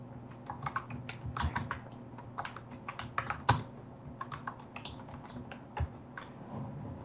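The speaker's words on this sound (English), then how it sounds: "That was me typing again." Quick, irregular clicks of typing on a computer keyboard during a paranormal spirit-session recording, close and fairly quiet, with scattered sharper key strikes and no voices.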